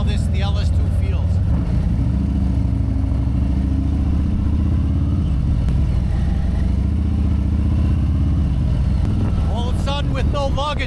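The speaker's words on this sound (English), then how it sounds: "With no luggage, the bike is so alive all of a sudden." A motorcycle ridden without luggage on a coast-to-coast road trip, its steady engine and road rumble running loud and continuous throughout, with wind noise and a rider's voice talking over it.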